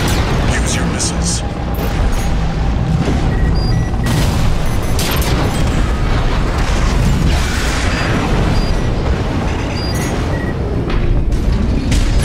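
Missile volleys launched from a mech in the combat game Armored Core VI: Fires of Rubicon, a dense roar of thuds, bursts and mechanical whirs running continuously under loud battle noise with voices speaking over it.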